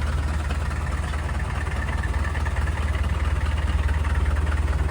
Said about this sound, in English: So a little puff as it starts, like a normal 300 TDI. It runs pretty quiet.